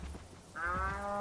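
A cow moos in the video game Minecraft, one drawn-out, nasal low call that rises out of a quieter pen, close and clear.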